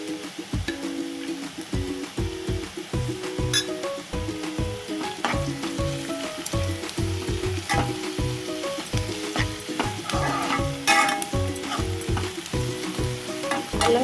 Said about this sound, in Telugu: తర్వాత కొద్దిగా అల్లం ఎల్లిగడ్డ పేస్ట్ వేసుకోవాలి ఫ్రెండ్స్.